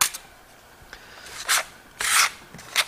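Trowel scraping Marmorino lime Venetian plaster with aggregate across a wall: short, raspy gritty strokes, a few quick scrapes then two longer louder ones, close and alone with no talk.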